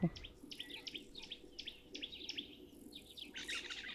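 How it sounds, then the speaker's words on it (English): Repeated Cape turtle dove calls, short chirpy phrases at a steady pace, over a soft low background hum with faint insect-like noise. "You can also hear the Cape turtle doves."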